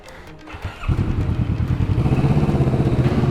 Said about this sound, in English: And my bike gets loud in here. That's what drilled holes in your exhaust do.